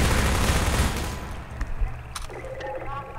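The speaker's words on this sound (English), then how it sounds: "The shooting was stopping me from fucking moving." Enemy gunfire in Half-Life 2 played in Synergy co-op, a loud burst of rapid shots and blasts that fades after about a second into scattered distant pops and clicks, with people's voices faint beneath.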